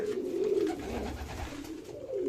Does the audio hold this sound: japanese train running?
no